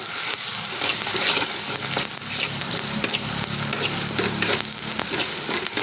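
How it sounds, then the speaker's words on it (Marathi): Red chili powder and spices sizzle in a frying pan while being stirred and mixed for a Marathi-style curry, a loud, continuous crackle with scraping stirs, close and steady, no talk. "छान असं हे सगळं मिक्स करून घ्यायचं"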